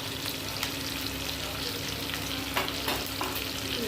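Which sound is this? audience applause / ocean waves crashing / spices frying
spices frying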